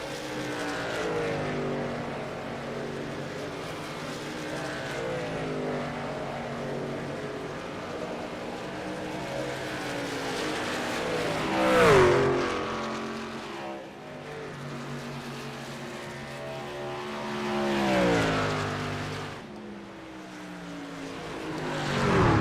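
Stock cars lapping Darlington in a racing simulator, a loud engine drone with shifting pitch that rises and falls as cars pass, with sharp swells around the middle and near the end.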